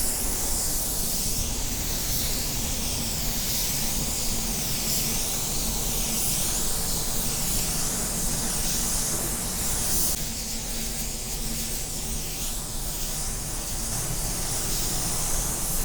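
Paint spray gun turned down to a low 21 PSI, spraying wet coats in a steady, loud, unbroken hiss that runs the whole time with no talk.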